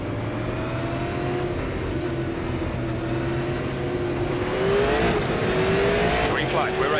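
Race car engine droning at a green flag start in the iRacing Super Late Model game at Lanier National Speedway, a steady loud hum that rises under throttle with a brief tire squeal, while someone talks over it.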